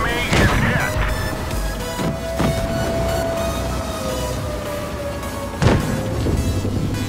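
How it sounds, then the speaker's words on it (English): Tank cannon shots in World of Tanks Blitz, with a T32 in play: three sharp, booming reports spaced a few seconds apart over a steady engine rumble and a sustained tone. "It gets shot again from my teammate, and I finish it off."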